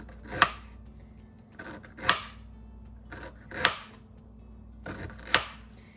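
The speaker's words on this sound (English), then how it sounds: "So all I'm gonna do is slice them up" Pineapple cores sliced thin with a knife on a cutting board: four crisp, separate cuts, each ending in a sharp knock, spaced evenly about a second and a half apart, close and clear over quiet background.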